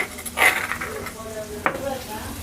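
Garlic paste hitting a hot pan for a cluster bean curry, sizzling in a steady hiss with a few metallic clinks and stirring scrapes near the start and again partway through.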